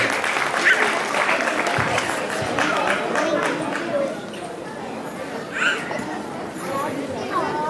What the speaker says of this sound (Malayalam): എല്ലാവർക്കും കൈയടിച്ച് മാർവിൻ ബിനോയെ പ്രോത്സാഹിപ്പിക്കുകയാണ്.